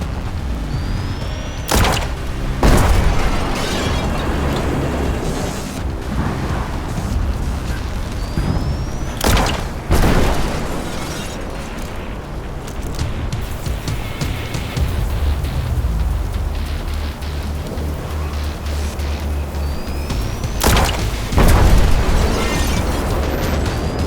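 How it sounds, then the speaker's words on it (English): Enemy gunfire aimed at the player in the horror game In Sound Mind: loud bursts and booming impacts break out at scattered moments over a dense, rumbling background, with no voices heard. "he's already firing at me"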